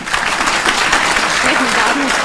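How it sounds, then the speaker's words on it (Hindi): An audience at a talk by two RAS exam rank holders gives a loud, dense burst of clapping that fills the whole moment, with faint voices beneath. "आप ताली भी बजा दी इस चीज के लिए"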